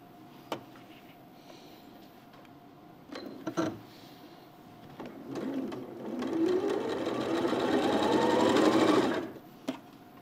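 A sewing machine stitches quilt pieces at a quarter-inch seam with the needle position nudged right, starting in short bursts then running steadily and close for several seconds before stopping, with no talk.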